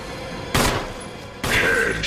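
A zombie takes a headshot in the Resident Evil Remaster video game: two loud, close gunshots about a second apart, each a sudden broadband blast with a lingering, ringing decay.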